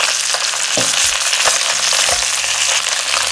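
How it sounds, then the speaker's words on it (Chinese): Mandarin fish fries loudly in lard and vegetable oil, a dense close sizzle broken by a few sharp clicks and scrapes from the pan. "所以加一点素油去煎它"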